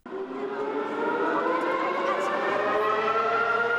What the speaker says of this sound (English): The air raid siren goes off.